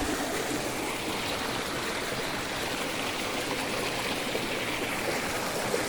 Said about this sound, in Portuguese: Ó, mina d'água aí, ó